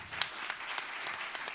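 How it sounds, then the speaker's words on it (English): Audience applause at a live Theater of Public Policy show, a steady dense patter of many hands clapping throughout with a few sharper claps standing out. "please applaud if you have never seen the Theater of Public Policy before"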